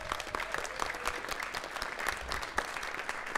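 A school concert audience at a jazz small-groups performance applauds, a somewhat distant, moderately quiet spread of clapping with scattered sharper claps and faint crowd murmur.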